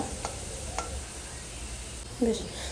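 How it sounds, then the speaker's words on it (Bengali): Onion paste fries and is stirred in a pan, with a steady low sizzle and soft scraping strokes close by, and a brief voice sounding near the end. "ভালো করে পেঁয়াজ পেস্টটা কষিয়ে নিতে হবে তো ভালো করে ভেজে নিব পেঁয়াজটা"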